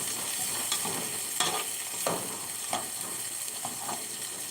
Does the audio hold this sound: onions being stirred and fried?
yes